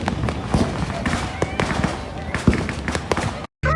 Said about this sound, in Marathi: पुढे फटाके वगैरे फोडायला चालू झाले.